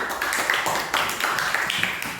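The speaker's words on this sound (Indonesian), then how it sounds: "Beri tepuk tangan." A short burst of applause from a small group of students in a classroom, with quick, uneven clapping close by.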